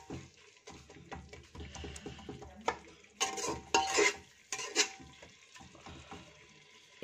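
Mutton curry with roughly chopped tomatoes and water stirred in a pot, soft scraping and low bubbling at first, then a few sharper clinks and scrapes of a spoon against the metal, fairly quiet and close.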